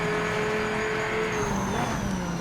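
Viper GTS-R race car in Project Motor Racing, its engine droning steadily with a rising then falling pitch, heard up close as the revs change through corners under braking, with faint tire noise.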